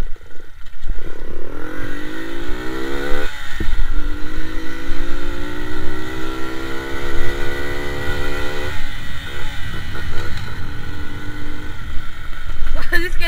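A Moby four-stroke moped rides up close, its engine droning and climbing in pitch through repeated gear changes, with brief dips between pulls and a steady road rumble underneath.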